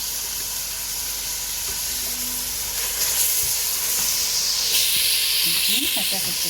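A chopped large onion and two garlic cloves fry in melted ghee for a spinach and rice dish, giving a steady, close hissing sizzle throughout with faint stirring near the end.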